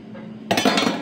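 A metal ladle clanks against a pan and plate while scooping stir-fried pork tenderloin with onion and shiitake mushrooms, a faint hum giving way to a sudden close clatter and a few scraping knocks.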